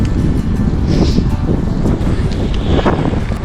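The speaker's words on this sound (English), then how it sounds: "Ah, it's getting windy now." Gusting wind outdoors on a bike ride, a steady loud roar buffeting the microphone throughout with no talking.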